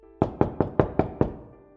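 Six crisp, evenly spaced knocks on an office door, loud and close, with the last knock ringing out briefly afterward.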